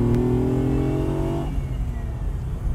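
A Ferrari Dino 246 sports car driving, its engine droning with a clear rising tone at first, then easing off into a rougher, lower rumble that stays close and loud throughout.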